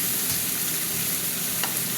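Fish and vegetables frying in a pan, a steady dense sizzle close up with a faint scrape of stirring, no voices.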